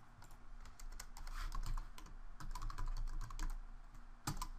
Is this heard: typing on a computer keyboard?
yes